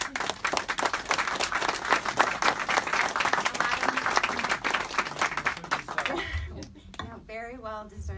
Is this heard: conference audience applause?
yes